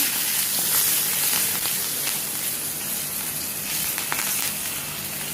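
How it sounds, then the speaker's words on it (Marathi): Curry leaves and dal sizzle and crackle in hot oil in a pan, a steady close frying hiss with scattered pops throughout, no voices. "आणि आता हे चांगलं जरा फ्राय व्हायला द्यायचं"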